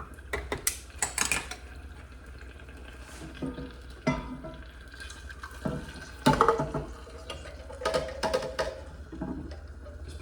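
Canned beans tumble from a can into a pot of rice heading for a rolling boil, a series of wet plops and clinks of metal against the pot, with a scrape or two of a utensil, close and fairly loud, no talking.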